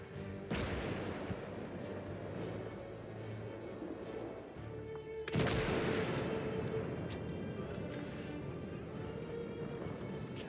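Mortar fire in the World War II game Call to Arms Gates of Hell: two heavy booming blasts a few seconds apart, each followed by a long rumbling roar, over a constant background of distant battle noise.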